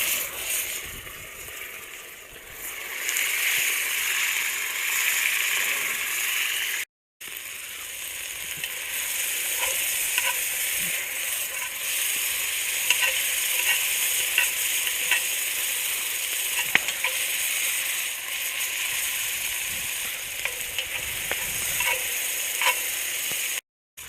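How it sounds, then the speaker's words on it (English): Raccoon stew meat seasoned with Siberian garlic sizzles steadily as it braises in hot oil over a fire, a continuous close frying hiss with small pops, one brief break, and no talking. "We're going to braise the meat."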